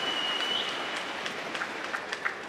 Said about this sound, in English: Crowd delighted that she's up, indicating that she's hopeful to return to court.